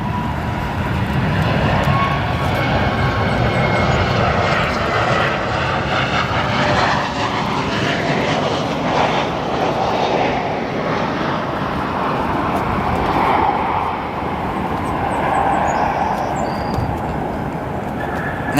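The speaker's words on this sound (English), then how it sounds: "Nice touchdown there as it passes by the Korean Air in the background. Hear those thrust reversers?" United Airlines Boeing 737 MAX 9 touching down at O'Hare with thrust reversers engaged, a sustained loud roar of jet engines rising and holding across the runway, broad and rumbling without breaks.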